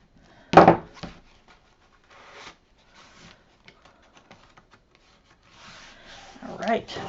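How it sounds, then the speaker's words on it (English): Paper is burnished down onto a Christmas scrapbook album page, beginning with a sharp rubbing scrape followed by softer, scattered rubs and brushes, close and fairly quiet. "Burnish it down."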